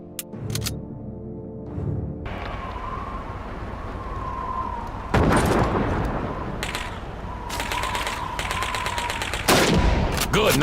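Gunfire at training targets in Call of Duty 2: a few sharp shots open, followed by several rapid bursts of automatic fire over a sustained droning background. Other shots are spaced irregularly between the bursts.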